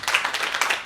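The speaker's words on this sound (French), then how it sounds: "Est-ce qu'on peut applaudir?" A small audience at an International Day of Peace celebration claps in a brief, close, uneven patter of applause.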